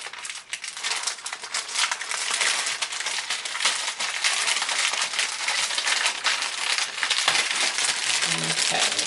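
Close, continuous crinkling of plastic packaging during a Seaside Moon Beach unboxing, with irregular crackles, rustles and small crunches that persist for several seconds without talk.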